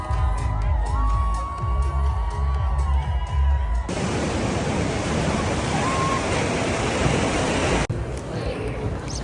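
Ocean surf at Bondi Beach in Sydney roars as a loud, steady wash of broadband noise. Wind and bustle come first, then the crashing water takes over from about four seconds on.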